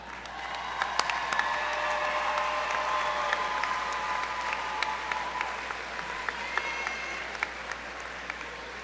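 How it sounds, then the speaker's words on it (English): A large graduation audience at a Florida Gulf Coast University spring commencement applauds steadily, dense sustained clapping filling the hall from start to finish with a few brighter individual claps standing out. "Please rise and give them a round of applause."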